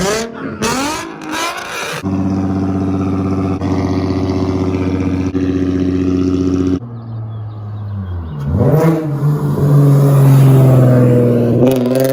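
A loud Nissan engine with test pipes revs repeatedly, holding a rough, throaty drone between sharp rising bursts of throttle, close by.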